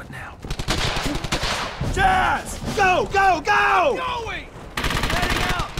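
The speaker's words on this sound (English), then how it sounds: "Enemy suppressing fire!" Heavy suppressing gunfire in Brothers in Arms: Hell's Highway, sustained bursts of battlefield shooting with soldiers shouting over it throughout.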